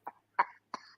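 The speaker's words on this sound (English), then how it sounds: "You having that cough again?" A man gives three short, wet, productive coughs with a gurgling, bubbly rattle, close to the listener and separated by brief silences.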